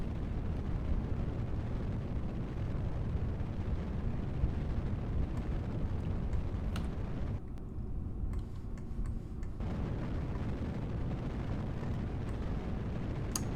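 A short, squat rocket's engine roars at launch in Kerbal Space Program, a steady loud broadband rumble running the whole time with a brief dip partway through and no talking.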